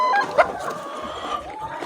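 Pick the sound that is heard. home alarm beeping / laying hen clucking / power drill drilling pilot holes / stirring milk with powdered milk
laying hen clucking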